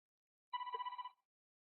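A phone gives one short electronic ring burst of about half a second, with a warbling trill, clear against silence.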